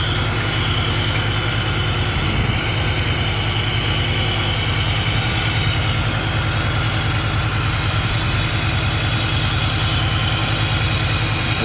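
A car engine idles steadily during a vacuum leak test with brake cleaner sprayed around the motor, giving a constant low rumble and vibration with no voices over it.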